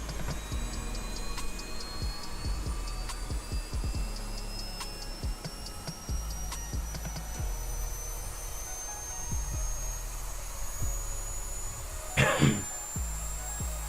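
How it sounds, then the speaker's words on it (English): Auxiliary power unit of an MD-90 airliner spooling up in the X-Plane 11 flight simulator, a steady rising whine with a faint ticking pulse and scattered clicks, plus a brief louder burst near the end. "There's the APU spooling up."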